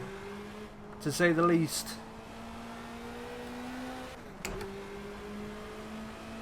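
A BMW 2002 StanceWorks Edition race car in the Project CARS racing game holds a steady, fairly faint engine drone, with a brief louder surge, while someone talks over it.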